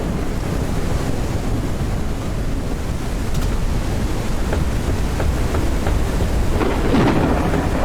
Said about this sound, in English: The storm is definitely not helping.